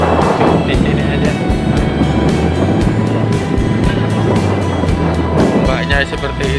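Big ocean waves break on the beach at Kemantren, Paciran, Lamongan, making a loud, continuous close-up roar and wash that fills the whole stretch.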